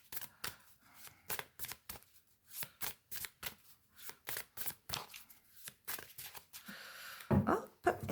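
Oracle advice cards are shuffled and cut by hand in a quick run of crisp, rhythmic riffling bursts separated by short pauses, close and quiet, ending in a slightly louder flurry.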